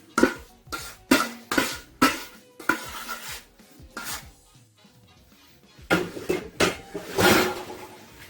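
Thick fruit cake batter of soaked fruit and flour being stirred by hand, giving repeated scraping, thudding strokes against the bowl in uneven rhythm with short pauses, no voices.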